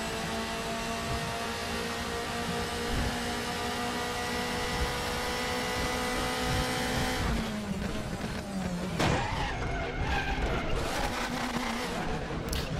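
Race car in the DTM 2014 game at Hockenheim during qualifying, a steady engine drone that breaks into a harsh braking and skidding burst partway through, with tire scrub and engine shifts continuing to the end.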